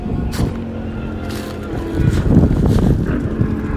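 Motorcycle noise drifting in from outdoors, a steady rumbling drone that swells louder toward the middle and end, with occasional wind buffeting over it.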